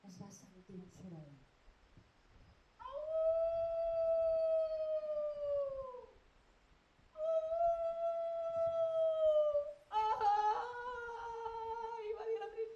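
A storyteller's voice imitates a wolf howling in a children's tale: two long, loud, drawn-out howls that slide downward, then a third wavering one, close to the microphone after a brief bit of speech.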